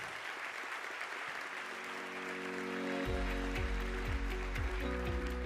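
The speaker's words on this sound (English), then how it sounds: "Let's give a big round of applause for our 2024 Power of Women awardees." An audience claps for the 2024 Power of Women awardees, a soft, even patter of applause, with a low sustained musical tone entering partway through and continuing beneath it.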